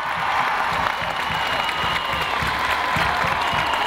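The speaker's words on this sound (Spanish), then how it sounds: "Por la amplia ovación." A large crowd at the closing of Argentina's National Women's Meeting gives a long ovation: dense, continuous applause with cheering mixed in, loud and steady throughout.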